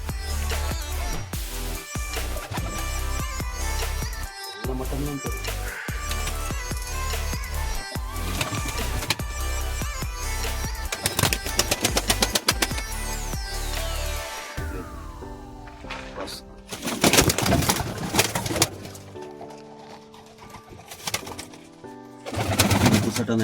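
Fancy pigeons in a home loft near Devikere in Sirsi, some sitting on eggs, coo and call repeatedly at close range amid a busy, steady background of other sounds, with louder bursts toward the end.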